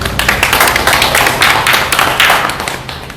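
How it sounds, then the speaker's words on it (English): An audience applauds at a World Cup homecoming game for the Reign FC women's soccer team, a dense, loud burst of clapping that continues steadily and tapers slightly at the end. "Give a round of applause."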